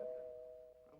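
A doorbell at a front door sounds a single sustained, clear tone, fairly close, ringing out alone for about a second.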